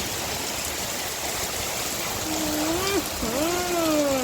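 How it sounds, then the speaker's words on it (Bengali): Heavy rain pours steadily through an open balcony into a room, a dense continuous wash of falling water, with a short voiced tone rising over it near the end. "সব ভিজে যেতেছে প্রচুর পরিমাণে বৃষ্টি শুরু হয়েছে"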